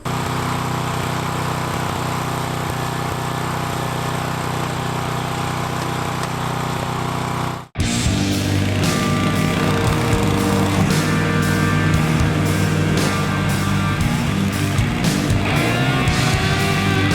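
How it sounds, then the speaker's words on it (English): A lawn mower cuts a tall fescue lawn, its engine droning steadily and close. A brief dropout comes just before the eight-second mark, and then the motor runs on, louder and rougher, with no talking. "Alright, so the mowing part is done"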